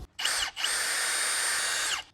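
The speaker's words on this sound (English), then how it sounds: "Back to the vise with the Milwaukee drill. We get to use a significantly larger drill bit this time though." Milwaukee power drill driving a large bit into metal held in a vise: a short whirring burst, a brief pause, then a steady high-pitched sustained drilling whine that winds down at the end, close and loud.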